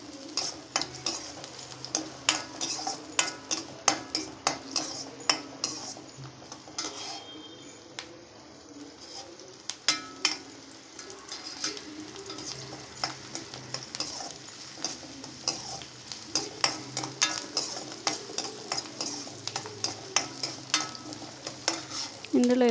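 Broad beans curry fries in a pan as a utensil stirs and scrapes it in frequent sharp clinks over a steady sizzle, close by and with no talking.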